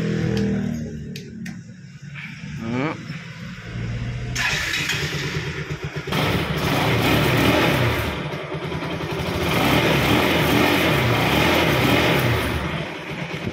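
A 2015 Bajaj NS200 motorcycle being started: a few clicks and a short cranking whir, then the engine catches and settles into a loud steady idle with a rising rev swell partway through.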